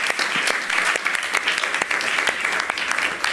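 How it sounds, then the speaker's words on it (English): An audience at a conversation event in a café applauds warmly, with dense, even clapping from many people that holds steady throughout. "So please give a big warm applause to Jacqueline, Corine, and Laurie"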